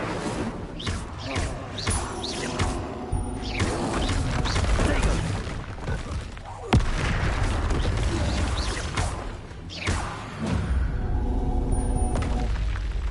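A fire spell cast in Hogwarts Legacy erupts with booming, crackling blasts and rumbling bursts over several seconds, loud and dense, with a sharp burst midway and game voices mixed in.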